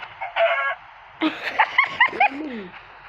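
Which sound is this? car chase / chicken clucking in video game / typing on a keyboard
chicken clucking in video game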